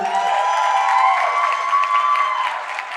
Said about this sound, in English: Let's give a round of applause for the Influencers Plus in the room.